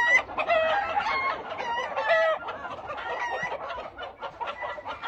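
Hatch tre chickens cluck and crow in a farmyard at midday, a dense run of repeated calls and clucks that rise and fall in bursts, fairly close and loud, with no talk over them.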